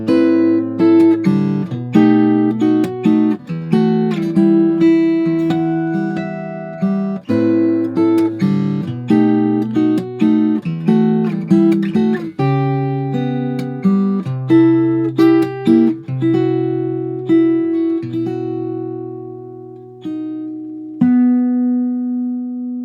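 Fingerstyle acoustic guitar playing, loud and close, with plucked melody notes over ringing bass and a slowing phrase ending on sustained chords, no voices.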